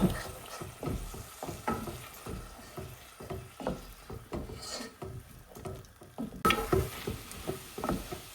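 Salted ingredients being mixed into a scramble, probably with a utensil against a bowl or pan, giving a steady run of soft scraping, rubbing strokes that stay close and moderately quiet with no talk.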